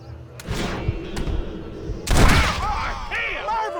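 Gunshots in Red Dead Redemption, several sharp cracks, with a loud close burst in the middle followed by ringing, whistling tails over a rumbling background.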